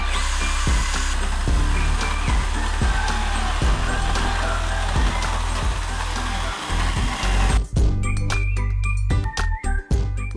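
A power tool cuts into the base of a weathered river log being trimmed for a garden lamp project, giving a loud continuous buzzing grind with rhythmic knocks, then cutting out into sparse clatter and handling noises.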